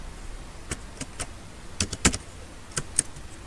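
Computer keyboard typing while entering an invoice in an Excel spreadsheet: scattered, light key clicks in short irregular bursts over a quiet room, with no talking.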